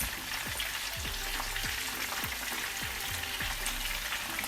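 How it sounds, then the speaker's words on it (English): Pieces of fish fry in a pan, giving a steady, loud sizzle close by, with soft scrapes and knocks recurring about every half second as they are moved, and no voices. "See, nicely fried."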